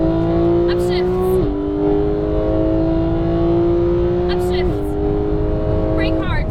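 Porsche 911 GT3 at Las Vegas Exotic Racing, its engine held at full throttle with a loud, rising wail broken by two upshifts, while an instructor talks over it.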